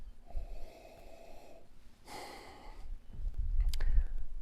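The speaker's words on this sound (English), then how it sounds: "Now we're ready for a big sniff." Someone takes a long, deep sniff of gin from a glass, a soft breathy inhalation up close in a quiet room, followed by a low rustle and handling noise.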